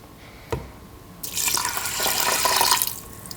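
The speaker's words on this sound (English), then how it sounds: "now I have measured out 666 milliliters of water, and I'm going to add it to 500 grams of rice." Water poured from a measuring jug into 500 grams of rice in a saucepan for sushi, a sharp knock first, then a steady close rushing pour lasting about two seconds before it tapers off.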